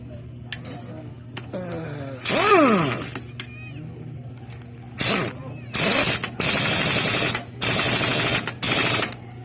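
A Honda Wave 100 engine magneto nut is tightened with a tool, giving quick bursts of loud rattling whirring in several separated spurts, with soft metallic clicks and a voice between them.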